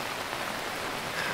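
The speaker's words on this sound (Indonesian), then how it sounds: "Suasana sedang hujan" Steady rain patters on a camping tent, a dense, even hiss of drops heard close by, without any voices.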